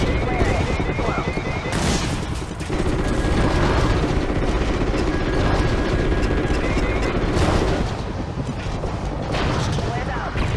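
Dense gunfire bursts and missile launches roar from the Call of Duty: Ghosts video game, loud and continuous over a rumbling aircraft-like drone, with a voice talking over the combat.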